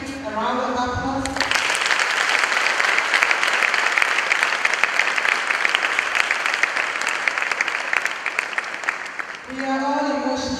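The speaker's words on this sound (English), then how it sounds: "can we give him a round of applause?" Sustained audience applause from young women at a girls' senior high school summer camp forum, a dense clapping wash lasting most of the stretch, with brief speech before and after.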